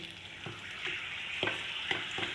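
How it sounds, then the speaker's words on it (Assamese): Steady sizzling of papad frying in hot oil, with a few soft scraping stirs, close by and without speech. "দুখন পাপৰ ভাজি ল'লোঁ।"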